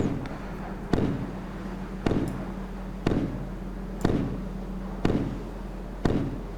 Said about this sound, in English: Got a couple missile launches there.